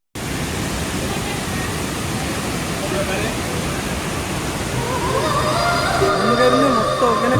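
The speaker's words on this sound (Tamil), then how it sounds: "அங்க ஒரு ஃபால்ஸ் தெரியுது இல்லைங்களா?" Water rushes in a steady, broad roar at Hogenakkal waterfall, continuous and close throughout, with a voice talking over it in the last couple of seconds.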